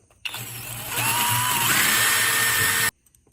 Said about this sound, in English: Weapon of attack is just a little wire wheel on a drill.